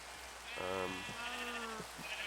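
Sheep bleating in the Minecraft video game, two or three close, wavering bleats in quick succession over a faint background hiss.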